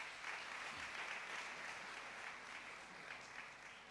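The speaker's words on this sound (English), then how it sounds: "Graduates, let's give them a big round of applause." Graduation ceremony audience applauding in a large hall, a steady, dense wash of clapping at moderate distance that holds evenly throughout.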